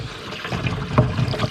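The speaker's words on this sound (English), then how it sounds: "So now that the water's flowing" Water pours into a container outdoors, a short steady trickling and splashing flow at close range.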